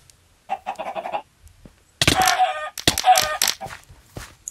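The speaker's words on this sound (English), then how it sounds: "This guy's murdering all my chickens!" Chickens clucking and squawking in the Minecraft-based Wynncraft online game, a first burst of chatter followed by louder, dense flurries of frantic fowl cries, close and without speech.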